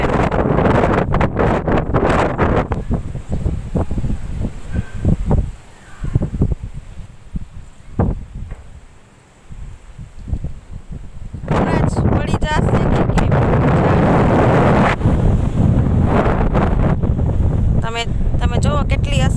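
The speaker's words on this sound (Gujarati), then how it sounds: "કેટલો પવન ફૂંકાય છે એ બધું. તો ચાલો બતાવું તમને." Strong cyclone winds of Cyclone Biparjoy roar in the late afternoon in Vadasar village, Kutch, buffeting the microphone with loud, steady gusts that ease briefly midway before surging again.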